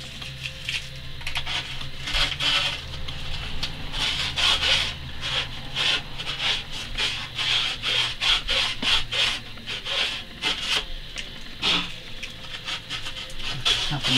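A stand-up paddleboard paddle shaft being roughened with sandpaper, steady rhythmic rasping strokes repeating close up, with no talk.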